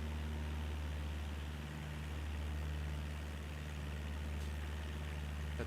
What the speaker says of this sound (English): feel like this engine's been working hard.